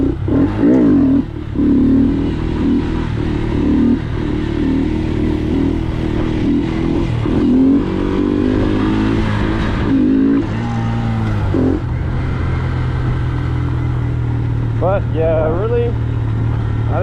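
A Honda Grom motorcycle engine revs and drones steadily up close during wheelie practice, with pitch rising and falling across the run while someone talks over it.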